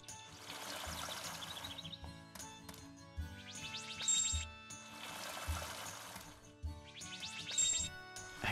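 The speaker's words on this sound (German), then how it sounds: "Alles einmal gießen." A watering can sprinkles crops in the farming game Story of Seasons: Pioneers of Olive Town, with two bursts of pouring, splashing water over light background music and small chiming effects.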